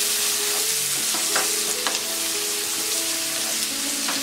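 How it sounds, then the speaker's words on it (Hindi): Onions, curry leaves, green chili and asafoetida fry on a high flame, a dense close sizzle punctuated by scraping stirs of a spoon in the pan, with no voices. "ये हींग, ये कड़ी पत्ता, ग्रीन चिली, ये अनियन। ये बड़े फ्लेम में फ्राई करेंगे।"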